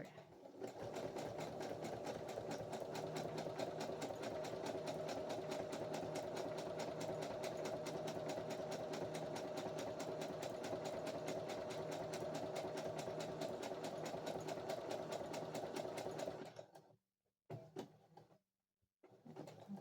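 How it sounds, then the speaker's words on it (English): A sewing machine stitches forward and backward in a fast, steady mechanical chatter for about sixteen seconds, then stops and restarts in a few short bursts, heard up close and fairly quiet. "And needle down. Back stitch."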